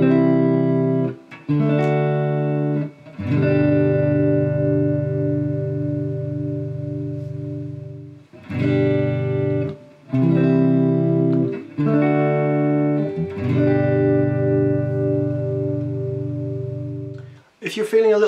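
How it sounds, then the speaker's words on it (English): Guitar playing a three-chord progression, each chord struck and left to ring for several seconds, with brief gaps between changes; close, clean and fairly loud, with no talking over it. "So if we put those 3 chords together, the progression sounds like this."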